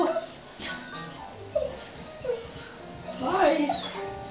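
Excited circus dogs greeting their owner as he comes home, with scattered high whimpers and short yips, close by and mixed under people talking and greeting them.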